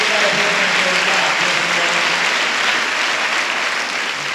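Applause from an audience at a church gathering welcoming a bishop, a dense sustained clapping close and loud throughout, with faint voices underneath.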